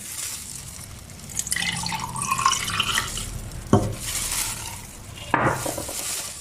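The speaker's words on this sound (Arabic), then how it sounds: "نذب عليه المي، بقلاص المي" A glass of water is poured onto tomato paste while making homemade ketchup, a steady close splashing trickle with a couple of soft clinks and drips.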